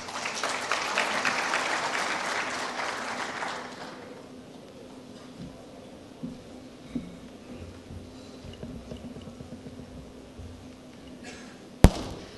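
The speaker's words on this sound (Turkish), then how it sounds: "Mr. Andy Millard'ı alkışlarınızla kürsüye davet ediyorum" Conference audience applause rises as a presenter is invited to the podium, loud dense clapping for about four seconds before it dies away into quiet room noise with a sharp knock near the end.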